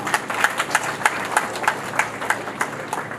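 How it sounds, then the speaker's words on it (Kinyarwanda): Wedding reception guests clap in a steady round of applause, with sharp individual claps standing out from the crowd, close by and without talk. "nsabe abanyamuryango mwese mushimire mubuha amashyi"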